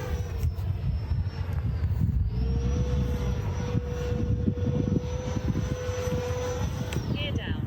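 An E-flite Viper 70mm RC jet with a maximum performance setup flies, its electric ducted fan whining steadily and rising in pitch as it climbs, over wind buffeting, with people talking nearby.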